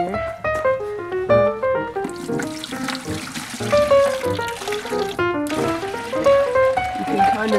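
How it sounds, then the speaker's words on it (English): A homemade clay mixture is poured into a bucket, sloshing and trickling in uneven wet splashes and gurgles. The pouring goes on steadily at close range, and people's voices run underneath it. "And then we're gonna be pouring it into this bucket."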